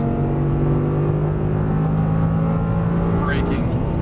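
Audi R8 engine at high RPM on a track, a steady sustained drone with a rising whine near the end, under continuous nearby talk from an instructor.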